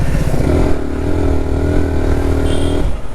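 A Yamaha R15M motorcycle engine with a faulty accelerator wire revs steadily and loudly, holding a sustained drone for nearly three seconds before dropping off, with no talk over it.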